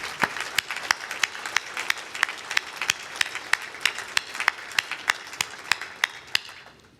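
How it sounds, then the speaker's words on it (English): Audience applause at a Maine workplace awards ceremony comes through as sparse, distinct claps in an uneven but fairly steady rhythm, clearly separated and moderately loud, with no talk over them. "Give everyone a round of applause for the outstanding work this community does."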